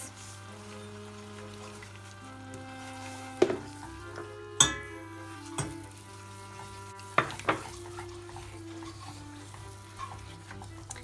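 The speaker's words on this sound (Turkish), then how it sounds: "Şimdi içerisine bir buçuk su bardağı şeker ile yağımızı karıştıracağız." Sugar being stirred into melted butter in a pan while preparing carrot balls, a steady scraping stir with a few sharp clinks of the utensil against the pan, close and moderately loud, with no talking.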